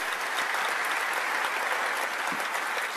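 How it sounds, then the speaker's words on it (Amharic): An audience at an award ceremony gives steady, warm applause. The dense clapping fills the whole stretch at an even level, with no voices standing out. "ስለዚህ ለሱ በሌለበትም ሞቅ ያለ ጭብጨባ እስኪ"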